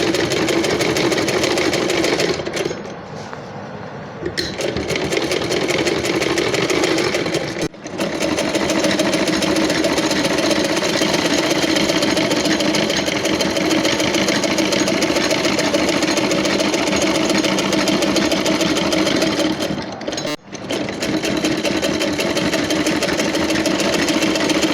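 A sewing machine stitches a fabric collar with a steady, close mechanical whir. It runs almost continuously, with a few brief pauses.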